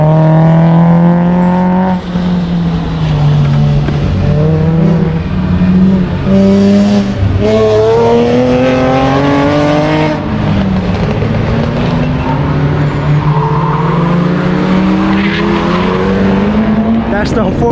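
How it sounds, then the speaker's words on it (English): A 400 horsepower Mazda Miata racing on a track, its engine loud and close, revving up and down through gear changes with brief tire squeal, sustained for the full stretch. "That's the 400 horsepower Miata that you guys just saw"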